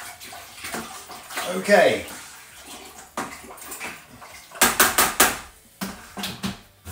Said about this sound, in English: I need to find my long spoon, and we need to give it a stir in